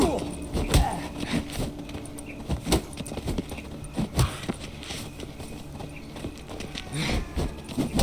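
Horse hooves clip-clop in The Witcher 3 combat, a series of irregular, fairly close thuds and clops mixed with game effects, with voices talking at times over them.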